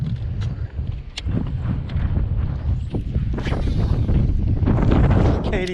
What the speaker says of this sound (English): Can't even throw this thing with the wind